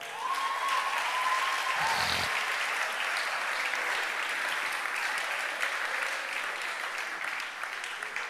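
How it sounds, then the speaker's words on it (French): An audience at a preaching event breaks into sustained, dense applause that holds steady from start to finish, filling the room, with a faint voice briefly heard near the beginning. "Acclamons un peu les femmes."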